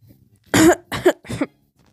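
Three harsh coughs in quick succession, close and loud, the first strongest, followed by quiet.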